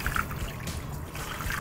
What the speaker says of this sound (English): So pour the water in,